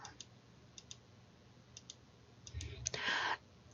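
Soft computer mouse clicks tick sparsely in a quiet room, with a brief louder rustle near the end.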